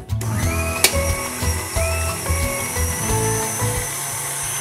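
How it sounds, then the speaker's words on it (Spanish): An electric mixer whips cream for a key lime pie, a close, loud, steady motor whir with shifting pitch and occasional clatter as the beaters move around the bowl. "Pero vamos a montar un poquito de nata."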